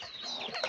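Rooster in a Kazakh farmyard letting out a short, close run of clucks, with soft, busy chatter and a slight rise near the end, over a quiet outdoor backdrop.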